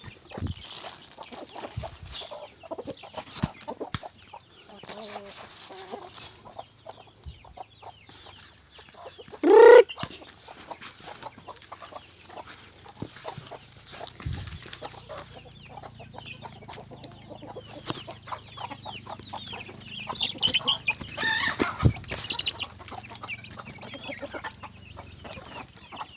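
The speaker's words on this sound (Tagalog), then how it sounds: "Yan ang mga inahin ko dito." Hens cluck and chatter around a farmyard as they are fed organic feed, a busy flock heard nearby over a long stretch, with one loud squawk standing out.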